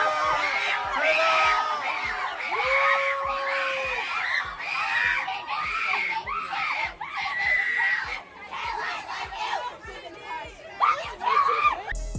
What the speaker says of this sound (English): there's these crazy girls screaming at the top of their